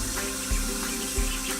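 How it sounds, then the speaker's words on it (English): Bathroom faucet left running while someone brushes their teeth: a steady, close rush of tap water pouring into a sink, with faint low thumps but no voices. "if Dario leaves the water running while he brushes"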